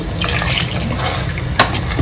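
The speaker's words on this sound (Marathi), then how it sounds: "थोडं पाणी घालून घ्यायचं मिक्सरच्या भांड्यामध्ये" Water poured from a vessel into a mixer grinder jar gives a close, steady splashing and gurgling stream for a couple of seconds, ending with a brief knock.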